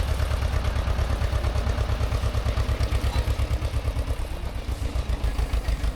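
A tractor pulling a trailer runs close by, its engine chugging in a rapid, even low-pitched knock that continues steadily and loud, easing slightly near the end.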